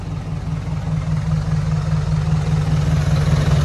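A car engine idles in heavy, slow traffic at the Myanmar border crossing, giving a steady low rumble that holds unchanged for several seconds with no voices over it.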